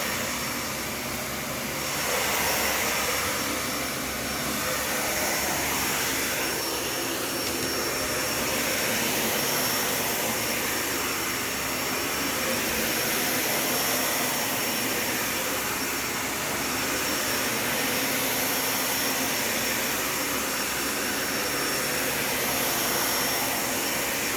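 A Dyson Ball Animal 3 Extra upright vacuum cleaner runs continuously with a loud, steady whooshing roar, close by and alone, its pitch shifting slightly as it moves.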